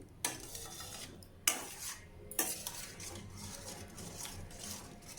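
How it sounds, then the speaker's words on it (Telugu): Chicken gravy with fresh grated coconut being stirred in a pot, a spoon scraping and clinking against the metal in a few sharp knocks over a steady low stirring rustle, close and moderately loud, with no voices. "ఇలా ఒకసారి అంతా కలిపేసేయండి"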